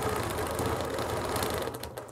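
A sewing machine running steadily during straight-line ruler quilting, a continuous close mechanical whir and rapid needle hum that eases slightly near the end.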